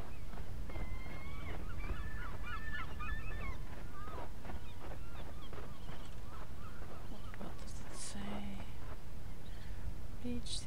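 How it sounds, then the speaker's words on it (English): Seagull cries in the game Lifeless Moon, a series of short honking, wavering calls early on over a steady ambient bed with scattered clopping sounds, followed by brief higher chirps. "Oh, we have the seagull."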